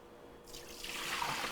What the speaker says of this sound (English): So I'm just going to keep rinsing in maybe another one or two more changes of water until it's clear.